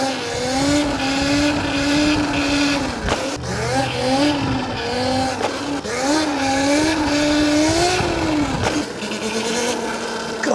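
An ETM RTR radio-controlled car with upgraded reservoir shocks accelerating hard: a loud, high-pitched electric motor whine rising and falling in repeated runs, with tire scrabble and rough chassis noise, close by and continuous.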